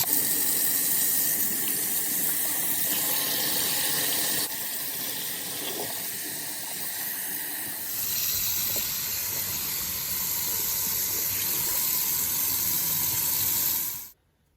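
Warm water gushes steadily from a sink tap, rinsing dyed fabric, a loud continuous splashing hiss whose character shifts a few times before it cuts off abruptly at the end.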